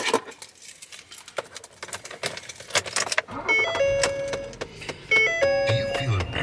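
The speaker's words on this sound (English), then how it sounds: "The clicking that you heard is the air door actuator" In a 2011 Ford Flex SE, the air door actuator behind the dash gives off a run of quick, light clicks under a faint cabin hum, followed by a series of electronic chimes and tones.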